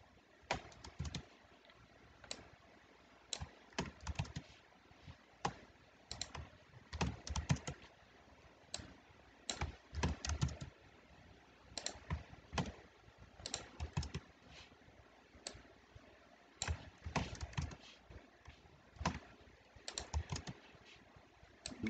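Data being typed on a computer keyboard, a long run of quick, uneven key clicks and taps with short pauses, fairly quiet and close, no speech.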